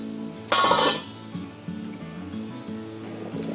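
A lid clanks onto a metal cooking pot holding a Maharashtrian sandge curry of masoor dal, one bright clink up close, followed by faint kitchen sounds.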